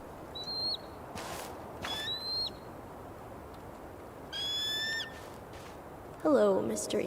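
An eagle's high whistling calls in Tell Me Why, several separate bright cries spaced over a quiet outdoor background, the last one nearer and louder.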